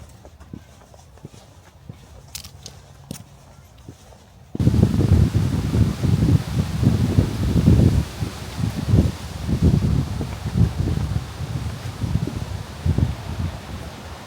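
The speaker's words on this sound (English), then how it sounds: "It's very windy out here." Strong wind gusting through trees in Central Florida woods, a broad rushing rustle of leaves that swells and surges in loud waves after a brief quieter start with faint scattered sounds.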